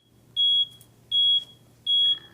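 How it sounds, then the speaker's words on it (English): Three evenly spaced, shrill electronic beeps from a Bascom Turner Gas Rover gas detector's flow-blocked alarm, each about a quarter-second long, loud and close over a faint background hum. "the acoustic alarm will sound"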